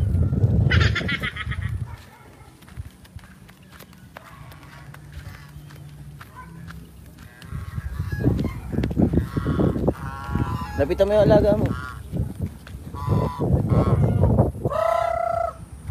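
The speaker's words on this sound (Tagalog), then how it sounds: "sa mga alaga kong swan" Several swans honk loudly and repeatedly nearby at a house in Bicol, Philippines, with a person speaking briefly over the calls.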